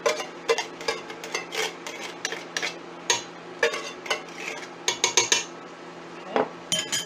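Diced tomatoes emptied from a can into a chili pot, with repeated metallic scrapes and taps of a spoon against the can rim and pot, close and fairly quiet.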